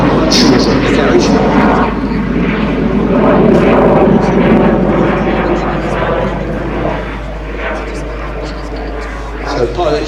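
A Hunting Percival Jet Provost T5 jet trainer flies at an outdoor air show, its engine a loud, steady roar that swells and fades slightly over ten seconds while a voice talks underneath.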